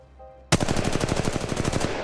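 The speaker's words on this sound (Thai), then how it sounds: "กำลังรีโหลดกำลังยิงต่อสู้ ศัตรูกำลังยิงใส่ฉัน" Automatic weapon fire in the mobile shooter game Apex Legends Mobile: after a short quiet lead-in, a sudden loud burst of rapid, evenly spaced shots rattles on for about a second and a half, close and with no talk.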